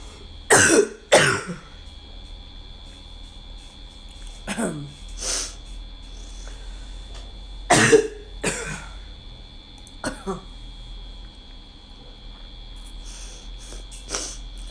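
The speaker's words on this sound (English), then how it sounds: "my throat's been just as bad. You know, stupid cough" Harsh coughs in several short bursts, close and loud, mostly in pairs separated by pauses, over a steady background hum.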